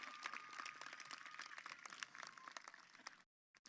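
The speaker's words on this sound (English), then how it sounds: "Yeah, y'all can clap." High school graduation crowd applauding for the class of 2021, a faint, far-off wash of dense clapping and cheering that cuts off abruptly near the end.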